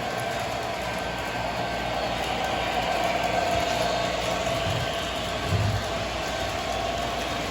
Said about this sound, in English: Let's watch a little trains for a couple of minutes.